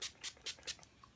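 Four quick bursts from a spray bottle misting a makeup brush, sharp hissy puffs in an even rhythm, close and fairly soft, with no talk.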